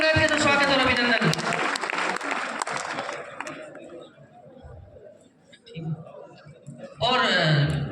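Loud applause from the audience at a community talent-honouring ceremony in Bikaner greets an arriving MLA, dense clapping that fades and then swells sharply again near the end.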